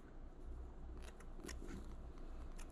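Dull scissors snip braided fishing line while a braid-to-mono knot is tied, giving a few quick crisp clicks and cuts close by over quiet background, with no talking.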